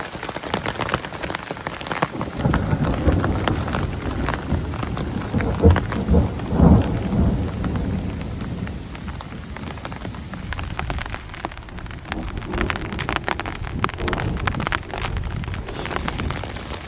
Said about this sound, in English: Plenty of thunder.